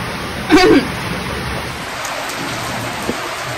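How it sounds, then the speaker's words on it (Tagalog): Heavy typhoon rain pours in a dense, steady roar, with one brief voice cutting in near the start. "Ito na yung hagupit ng bagyo guys."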